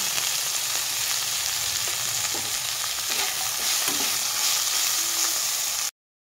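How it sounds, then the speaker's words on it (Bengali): Ginger and turmeric with spices sauté in a hot pan for a veg dal, giving a steady, fairly loud sizzle with occasional stirring scrapes and clinks throughout, no voices. "এগুলো উপকরণ একসাথে ভালোভাবে কষানো হয়ে গেছে"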